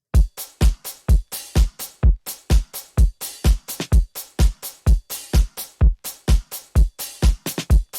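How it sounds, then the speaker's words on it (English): A punchy programmed drum beat repeats steadily, with sharp kick hits and a snare layered with a clap, plus an open hi-hat and shaker ticking on the offbeats, loud and dry. "a snare drum layered with a clap, and then an open head and a shaker playing on the offbeat"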